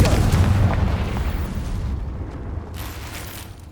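A Confringo blasting spell goes off in Hogwarts Legacy as a loud, rumbling boom that fills the start and then slowly decays into a fading roar over a few seconds.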